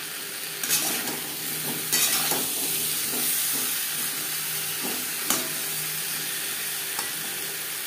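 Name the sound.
potatoes mixed with salt, turmeric and spices in pan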